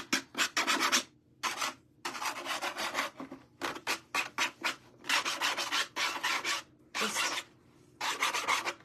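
Scorched wood is roughed up by hand in repeated short rasping, scraping strokes, loud and close, separated by brief pauses, with no voices.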